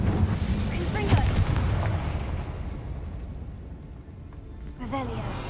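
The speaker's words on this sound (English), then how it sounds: "Confringo!" A Confringo blasting spell goes off in Hogwarts Legacy: a booming burst in the first seconds dies back into low rumble, then a second sharper blast lands near the end, all under a steady game ambience.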